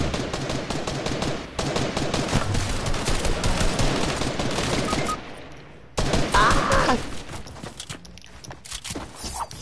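Video game gunfire in loud, dense bursts of rapid shots that run almost continuously, with a brief pause before a second volley.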